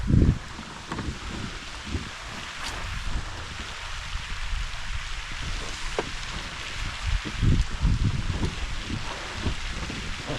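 Wind gusts across a lake during cold spring kayak fishing in Kentucky, making a low, buffeting roar on the microphone that rises and falls in uneven bursts, with some rustling and a few knocks.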